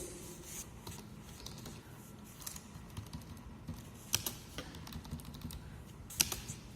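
Keys clatter softly on a computer keyboard as a query is typed, a steady stream of light, close taps with a couple of sharper strokes, fairly quiet and without talk.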